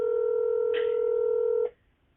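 A telephone number is dialed as a steady dial tone plays, with a short burst of touch-tone beeps partway through before the tone cuts off abruptly, leaving near silence.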